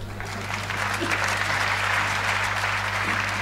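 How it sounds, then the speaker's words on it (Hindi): Audience applause at a Hindi comic poetry gathering, a hasya kavi sammelan, steady dense clapping from a crowd that rises slightly and holds throughout, with a low hum and murmuring voices underneath. "और ताली तो अब अगली पंक्ति पे बजाना आप"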